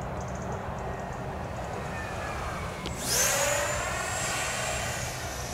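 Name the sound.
Vulcan model airplane flying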